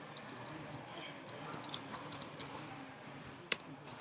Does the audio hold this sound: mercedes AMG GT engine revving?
no